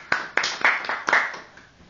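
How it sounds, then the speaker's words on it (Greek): Applause after a magic trick: a few people clapping close by in an uneven, thinning pattern that dies away within two seconds. There is no talk. "Ένα χειροκρότημα παρακαλώ"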